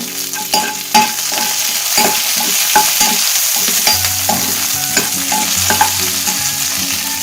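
Curry leaves, ginger and garlic fry in a pan with a steady, loud sizzle, while a spoon stirs and scrapes with scattered clinks and knocks against the metal.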